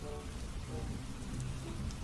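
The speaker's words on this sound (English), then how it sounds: "The rain got harder and harder." Heavy rain pours down in a dense, steady wash of hiss and patter, loud and continuous with a low rumbling undertone, no voices over it.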